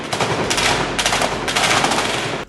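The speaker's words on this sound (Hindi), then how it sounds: "फायरिंग हो रही है।" Heavy gunfire erupts in combat at Khan Yunis as dense, loud bursts of rapid automatic fire that come in three or four close volleys before cutting off abruptly.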